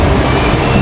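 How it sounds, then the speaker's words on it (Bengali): A passenger train pulling away on a rail journey toward Sealdah, heard from on board as a loud, steady rumble of rolling stock, with no voices, over a brief moment. "তো ট্রেন ছেড়ে দিল"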